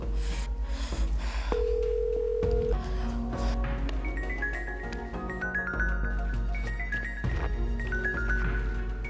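A telephone plays a series of short electronic tones and beeps as a number is dialed, over a low steady hum in a quiet room.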